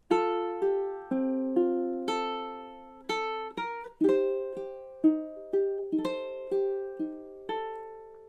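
A solo ukulele plays measures 7 and 8 of a song as a series of clear strummed chords in a steady, unhurried rhythm, heard up close with no talking.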